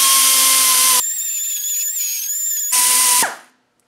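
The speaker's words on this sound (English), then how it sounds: "we're going to rough it up with a die grinder so it's really got some bite into there." A die grinder roughs up the surface of an MLS head gasket for a 200Tdi engine. It whines loudly and close, dropping to a higher-pitched whir under load in the middle, then spinning back up and winding down to silence.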